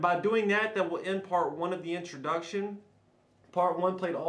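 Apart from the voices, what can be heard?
No everyday noise stands out behind the speech.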